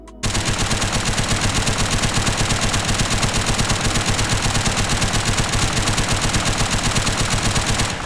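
A weapon in Unturned fires a long, unbroken burst of rapid automatic gunfire, loud and evenly rhythmic, with close mechanical clattering and no pauses.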